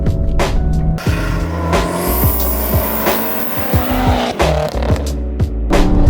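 700 BHP BMW F10 M5 with Evolve Stage 2 tune and aftermarket downpipes, loud close exhaust roar with rising revs, repeated sharp gear-change cracks and pops, tires squealing.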